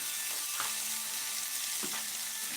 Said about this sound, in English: Throw the onions in there.